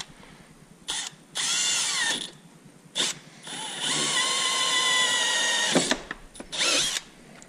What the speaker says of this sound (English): So now we got our hole drilled.